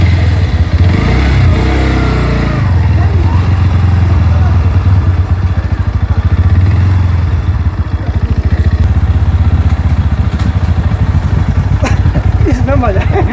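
A Bajaj Pulsar NS 160 motorcycle on a test ride makes a loud, steady close-up engine drone with rumbling, pulsing exhaust, and wind buffets the mic while people talk over it.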